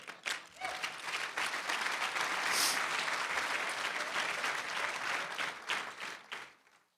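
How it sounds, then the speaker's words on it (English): An audience at an annual chamber of commerce awards dinner breaks into a round of applause, dense clapping swelling after a brief start and tapering off at the end. "Let's give a big round of applause"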